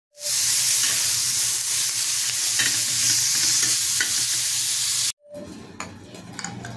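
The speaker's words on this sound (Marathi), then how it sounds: "इथे आपण मीठ टाकून घ्यायचं आहे आणि पुन्हा आपल्याला ते परतून घ्यायचं आहे." Tomato chutney with salt is sautéed in a pan, giving a loud, steady sizzle with stirring for about five seconds, then a quieter, softer fry near the end.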